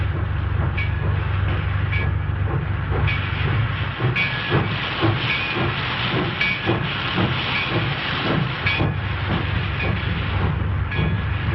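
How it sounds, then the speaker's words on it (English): Steady rumble and hiss of a train in a rail yard, with repeated metallic clicks and faint squeals over continuous low machinery noise. "See that train down there?"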